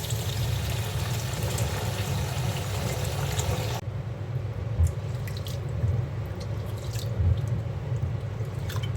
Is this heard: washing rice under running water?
yes